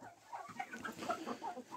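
Young roosters and hens, including a Cochin hen, cluck and chatter in a backyard coop in a quick run of short, moderately near calls, with no speech.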